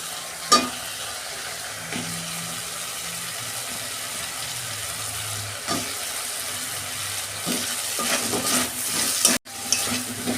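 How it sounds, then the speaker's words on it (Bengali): Potatoes fry in a pan of cooked-down spice masala with tomato, a steady sizzle broken by occasional stirring clatters and scrapes, with a low hum in the background and no talk. "মশলা কষানো হয়ে গেছে, আমি আলুটা দিয়ে দিচ্ছি।"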